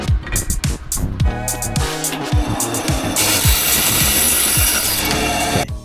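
Wood being turned and worked into pen blanks on a lathe, with scraping, rubbing tool strokes in rapid bursts, then a steady bright hiss of cutting or sanding, close and loud.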